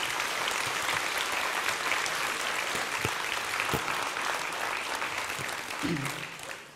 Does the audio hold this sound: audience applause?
yes